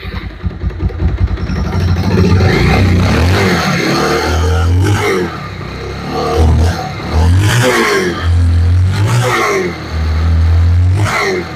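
A struggling motorcycle engine revs loudly and unevenly, sputtering and surging in repeated bursts of throttle, then cuts out and dies. It is very close, with someone talking over part of it.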